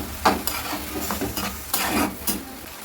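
Red lentils (dal) being stirred in a pan for a fenugreek-leaf dal dish, a spoon scraping and clacking in several uneven strokes over a faint sizzle, close and fairly loud.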